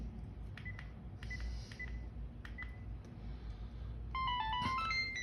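A Multicell handset gives short electronic beeps, then a rising melodic ringtone plays near the end for an incoming call, quiet and close.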